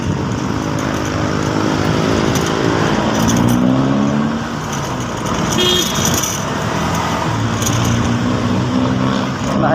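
Car traffic passing on a road in Masinag, Antipolo, a steady loud roadway wash of engines with a few horn toots rising briefly.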